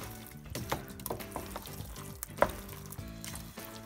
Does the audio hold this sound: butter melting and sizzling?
yes